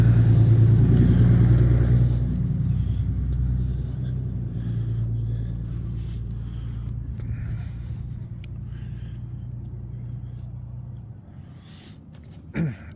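An old square-body truck idles through a full 2-inch dual exhaust, a steady low rumble that starts louder, settles to an even drone, then cuts off near the end.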